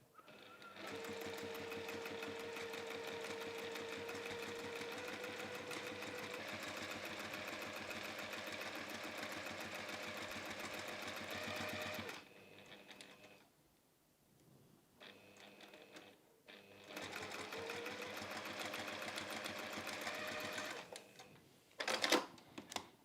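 A sewing machine stitches quilt-as-you-go layers in the ditch on a reversible quilt, running steadily for long stretches with a brief pause and restarts before the clip ends.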